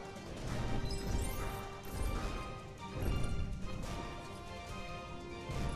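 The Hulk smashes objects in Lego Marvel Super Heroes, a series of loud, crunchy plastic crash bursts repeating roughly every second over a busy game background.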